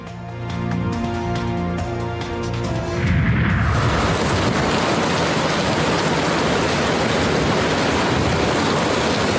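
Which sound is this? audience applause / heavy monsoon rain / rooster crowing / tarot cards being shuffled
heavy monsoon rain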